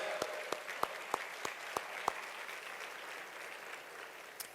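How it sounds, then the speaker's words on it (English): Applause from a gala audience in Houston, a soft steady patter of clapping with a few sharper single claps standing out, moderately distant and continuous throughout. "Y'all give a huge round of applause."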